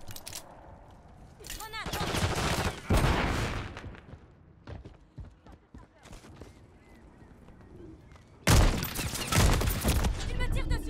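Video game gunfire from Call of Duty Modern Warfare III on the Highrise map comes in loud rapid bursts and fusillades, with a heavy cluster near the end, while a voice talks through the quieter gaps.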